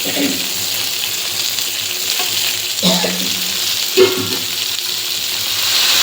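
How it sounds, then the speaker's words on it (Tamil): Vegetables sautéing in a pan for rava kichadi, a loud, close, continuous sizzle broken by a few scraping stirs of a spoon, with no voices. "இப்போ மித்த வெஜிடபிள்ஸ்லாம் போட்டுடலாங்க."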